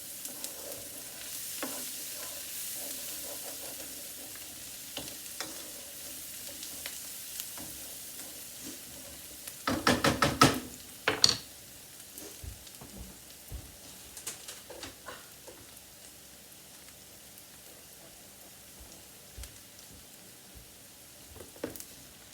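Garlic, onions and three packets of mushrooms fry in a pan with a quiet steady sizzle, broken by a loud burst of stirring and clattering midway, then lighter scraping.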